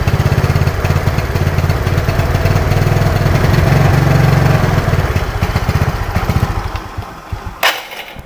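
Yamaha Mio Sporty scooter engine with a faulty carburetor running at close range, a loud, uneven buzzing idle with stuttering misfires before it fades and ends in a sharp knock.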